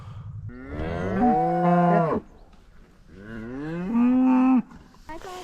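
Cows in a grassy field outdoors give two long, loud, close moos, each drawn out for about two seconds with a brief pause between.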